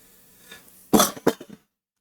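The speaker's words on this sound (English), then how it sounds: "I've been coughing all night" A short cluster of rough, nearby coughs, two strong bursts with a couple of smaller ones trailing off, over faint background hiss.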